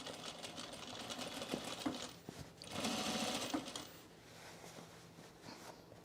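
A sewing machine stitches men's cargo shorts, the presser foot running along a chalk line past pins: a steady close mechanical whir in continuous runs, louder in the middle, with short pauses and no talking.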